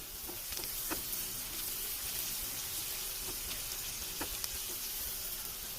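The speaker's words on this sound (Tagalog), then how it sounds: "Lagyan na natin yung garlic. And yung onions. Igisa lang natin ng very, very light." Garlic and onions sauté lightly in butter in a pan, making a continuous soft sizzle with a few faint clicks from stirring and no talking.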